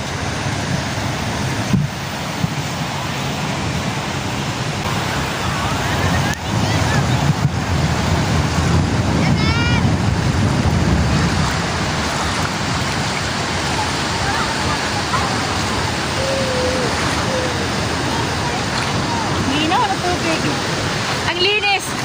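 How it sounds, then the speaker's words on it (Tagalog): Ocean surf rolling onto the beach at Boracay Island, Philippines, a loud, continuous wash of waves roughened by wind buffeting the microphone, with people talking now and then over the roar. "nandito ulit kami sa dagat, sa beach"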